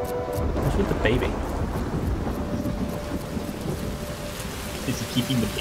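Rain and rumbling thunder from a video game trailer at a PlayStation E3 2018 showing. A steady, dense downpour wash continues throughout, with low thunder beneath it.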